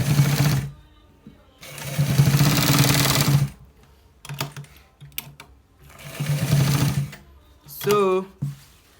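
Sewing machine stitching a V-neck, loud close bursts of rapid mechanical whirring that start and stop, with a person talking between the runs.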